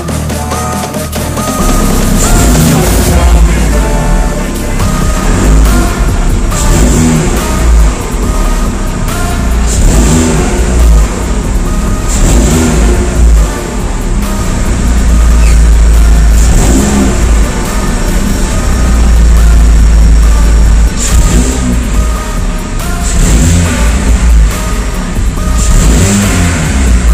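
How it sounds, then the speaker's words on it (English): Opel Corsa E with a newly fitted sport exhaust revving hard, a loud, close engine roar that swells and falls through repeated rev surges across the whole stretch, with no talking. "ya están montados los tubos de escape"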